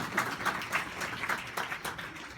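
Audience applause at a comics and STEM education workshop, a steady patter of clapping hands that runs through the whole moment at moderate level, with no voices over it.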